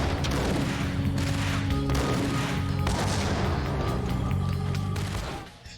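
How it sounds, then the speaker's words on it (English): In a video game, dense, muffled gunfire and dull explosions roll on continuously, a steady wall of battle noise that fades slightly at the very end. "The guns sound kinda muffled, the explosions don't sound loud enough."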